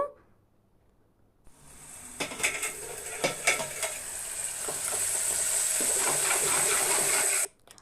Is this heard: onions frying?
yes